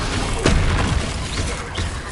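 A Confringo explosive spell goes off in the video game Hogwarts Legacy, a loud burst with a rumbling boom and crackle over a dense game soundscape, lasting about a second before fading into continuing noise.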